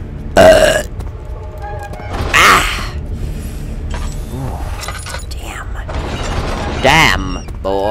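Several loud, drawn-out burps from a man called TJ come at intervals, mixed with voices talking.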